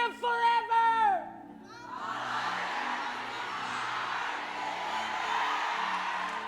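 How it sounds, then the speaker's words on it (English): A church rally crowd yelling together at full voice, a broad sustained roar of many people that swells up after a preacher's spoken line and carries on steadily. "Now I want you to yell as loud as you can and say, Father, come into my heart and live forever."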